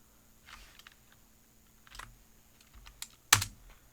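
Keystrokes on a computer keyboard while a variable name is entered in code, including a spacebar press: a few soft scattered taps, then a sharper, louder pair of clicks near the end, close and alone with no talking.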